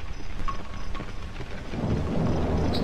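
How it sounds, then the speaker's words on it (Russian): Rain drumming on a roof in the horror game Cry of Fear, a steady dense patter that swells louder in the last second, with low rumbling underneath and no voices. "дождь, стучащий по крыше."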